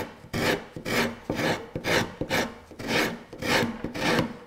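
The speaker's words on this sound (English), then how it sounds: "I've got a rasp here, and I'm going to work the rasp" A wood rasp works a curved edge on a mudroom locker, giving a rhythmic series of coarse, scraping back-and-forth strokes, about eight in a row, close and steady, with no voices.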